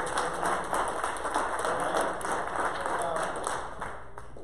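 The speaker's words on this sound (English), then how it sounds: "give God a hand clap" Church congregation clapping hands together, a steady, dense wash of applause held at even loudness, with voices mixed underneath.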